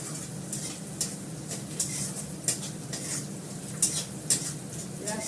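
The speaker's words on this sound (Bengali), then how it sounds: "পেঁয়াজটাকে একটু লাল লাল করে ভেজে নেব।" Onions fry in a pan until reddish-brown, sizzling steadily while a utensil scrapes and stirs them in repeated sharp strokes against the metal.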